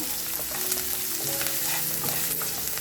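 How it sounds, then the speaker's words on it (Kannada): Green chillies and garlic fry in a pan with a dense, continuous sizzle and crackle throughout, close and fairly loud, with no talking. "ಮೆಣಸಿನ್ಕಾಯಿನ ಹಾಕ್ಕೊಳ್ತಾ ಇದ್ದೀನಿ ನೋಡಿ ಇವಾಗ ಫ್ರೈ ಮಾಡ್ಕೊಬೇಕು"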